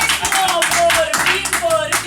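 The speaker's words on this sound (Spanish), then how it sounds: "Fuerte el aplauso a la pastora Betsaida." Church congregation giving strong applause for a pastor at a stage inauguration, dense clapping layered over loud music with a steady beat throughout.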